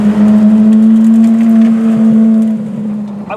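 A Ferrari race car driven on a public street, its engine holding a loud, steady droning note close by. The tone eases slightly near the end.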